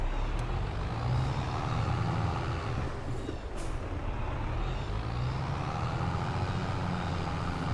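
A farm truck reversing in Farming Simulator 22, with steady engine drone, air-brake hisses and sharp bursts of noise over continuous vehicle rumble.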